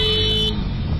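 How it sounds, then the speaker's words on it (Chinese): A motor scooter horn gives a loud, close honk that holds for about half a second on a road and then cuts off sharply. "骑士急按喇叭把车头往左带"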